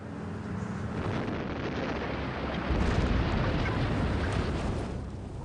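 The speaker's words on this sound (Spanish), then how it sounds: "Se le llama soldadura de explosión." An explosion welding blast deep in a mine, more than a kilometre underground, gives a sustained, heavy broadband roar that swells louder partway through and rumbles on without a break.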